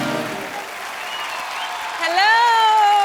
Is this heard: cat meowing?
no